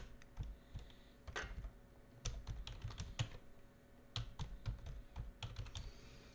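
Typing on a computer keyboard, quick irregular bursts of crisp clicks with short pauses between them, close and fairly quiet, no talk.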